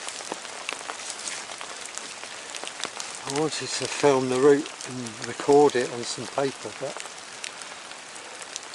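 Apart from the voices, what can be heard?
rain falling outdoors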